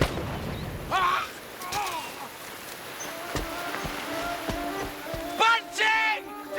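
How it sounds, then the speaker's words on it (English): Cannon and gunfire in a naval battle break out in sharp bursts and booms, while shouting voices call out over the fighting. "Over there! Fire!"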